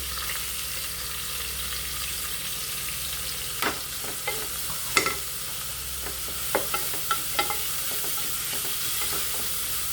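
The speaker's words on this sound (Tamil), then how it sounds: "நான் இப்போ இஞ்சி பூண்டு வெங்காயம் போட்டு வணக்கிறேன்." Steady sizzling of ginger, garlic and onion frying in butter in a pan, with a few sharp crackles and stirring clicks over the constant hiss, no voices.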